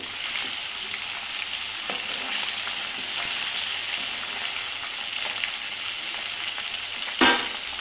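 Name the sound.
tilapia fish frying in a pan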